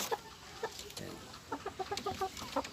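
Newly bred gamefowl chickens, about five months old, cluck and murmur softly in short scattered calls, fairly quiet, with faint background noise around them.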